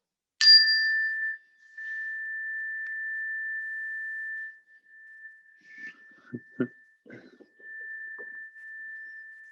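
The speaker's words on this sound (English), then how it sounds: "My little chimes here." Small hand chimes ring once at the start of a class, a bright struck tone that rings out and sustains for several seconds, with soft rustling and taps underneath as it fades.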